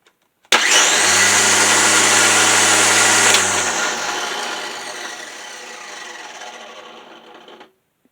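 Black & Decker CST12 12V cordless string trimmer converted to a LiFePO4 battery starts abruptly and whirs at a high steady pitch for about three seconds, then winds down and coasts to a stop; no talking.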